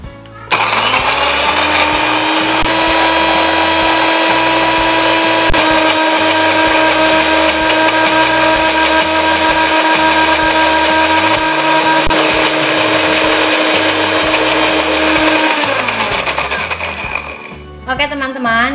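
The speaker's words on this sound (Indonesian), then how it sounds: "lalu blender bumbu sampai halus." A kitchen blender grinds shallots, garlic and bird's eye chilies with a little water, a loud steady motor whine that holds for many seconds before it winds down and stops near the end.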